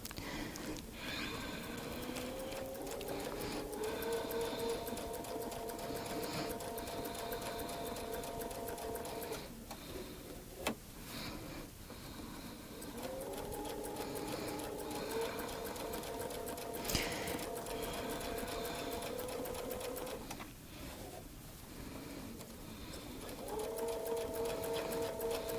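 A sewing machine quilts arcs along a stitch line with a Westalee Baptist Fan template, its needle hammering in a steady rapid rhythm in long runs broken by brief pauses.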